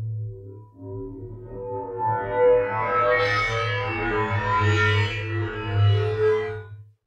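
Synth tone with a flanger producing a slow, sweeping warble, a talking filter-like motion rising and falling across several seconds; sustained, fairly loud, with a steady low drone underneath and no voices.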